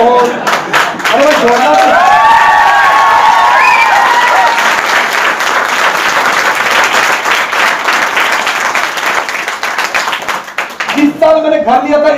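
Audience at a Hindi-language life-changing training seminar breaks into loud, sustained applause, dense clapping filling the room, with a voice speaking over it at the start and again as it tapers off.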